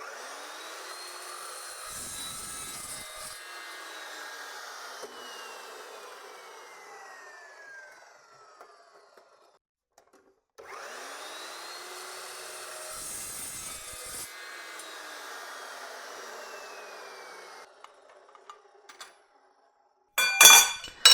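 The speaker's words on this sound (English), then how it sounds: "I'm gonna try and cut again with the clamp a little bit further down" Metal being cut by a saw with the workpiece clamped further down, two long stretches of steady rasping cut separated by a pause, close and fairly loud, ending with a short burst of clatter.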